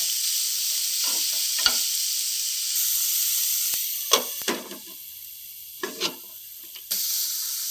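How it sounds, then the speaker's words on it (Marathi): Chopped tomato sautés in a pan over a low flame, a soft steady sizzle broken by a few louder stirring scrapes and bursts of hiss, with no talking. "थोडासा टोमॅटो आता आपण हा छानपैकी परतून घेऊया मंद आचेवर"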